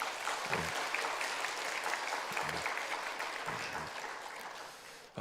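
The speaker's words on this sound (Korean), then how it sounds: "박수 한번 해주시기 바랍니다" A church congregation applauds the choir and children at a Christmas dawn service, steady dense clapping held at a moderate distance throughout, with no talk over it.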